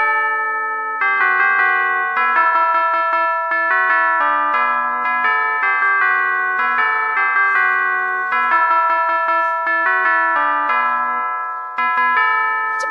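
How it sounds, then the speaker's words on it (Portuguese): A musical electronic doorbell chime rings out loudly and continuously on a Brazilian TV variety show, a long run of repeating bell-like tones with a short break near the end. "Aperta você campainha agora."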